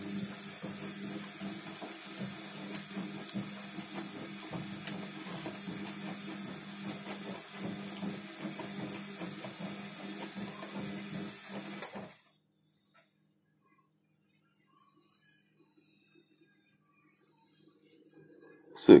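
A Bosch Exxel 7 washing machine runs a wash loaded with mixed-brand detergent and Lenor, giving a steady mechanical churn and hum for about twelve seconds before cutting off into near silence, with a faint knock near the end.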